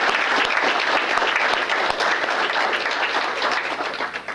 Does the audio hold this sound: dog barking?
no